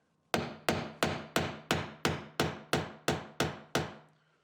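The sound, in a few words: hammering a nail set to drive a nail into trim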